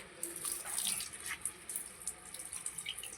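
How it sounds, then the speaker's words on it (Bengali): Running tap water splashes over cut pieces of young jackfruit being washed by hand, a soft continuous gush with small irregular splashes, fairly quiet and close. "পিস পিস করে কেটে আগে জল দিয়ে ধুয়ে নিতে হয়"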